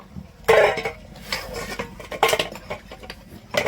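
A metal pot of boiled eggs is lifted off the stove, with close clanks and scraping of cookware and a few light clinks spread over a few seconds.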